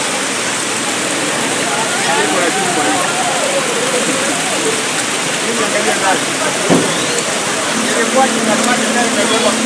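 Flowing water gives a steady, loud, broadband rush that runs unbroken through the whole stretch, much like a torrent or heavy downpour, with a faint low hum joining near the end.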